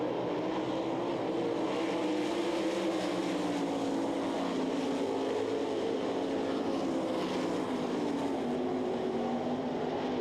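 Several 360 sprint cars race in a heat at the Knoxville Nationals, their engines blending into a steady, loud, continuous roar with a droning pitch that rises and falls as the pack circles the dirt track.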